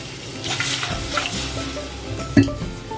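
Leftover curry sizzles and bubbles in a pan on the stove as a little water is stirred in. A steady frying hiss carries stirring scrapes, and a brief louder splash comes near the end, with no talking.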